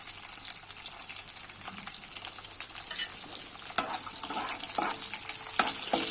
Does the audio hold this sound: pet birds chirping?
no